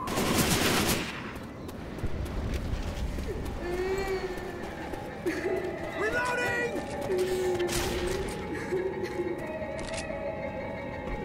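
Gunfire from the video game Left 4 Dead 2: a loud burst opens the stretch, followed by scattered bangs and game effects over a steady ambient bed, with voiced callouts and chatter mixed in.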